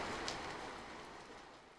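Steady rainstorm sound effect hissing through a cruise ship bar, a dense continuous wash of falling rain that holds loud and even before easing slightly toward the end.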